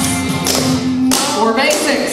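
Boots stomp in a country line dance to a song: four sharp, evenly spaced thuds land over loud music with a sung voice.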